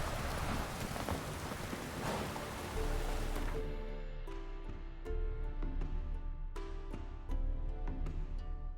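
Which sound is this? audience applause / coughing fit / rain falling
rain falling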